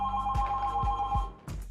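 A telephone ringing indoors, a steady electronic ring tone pulsing through the whole clip at moderate volume, with a few dull low thumps underneath.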